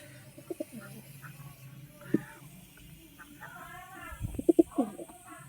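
Black Lotan pigeons cooing in a loft, soft throaty rolling coos and a few sharp flutters, close and intermittent against quiet background.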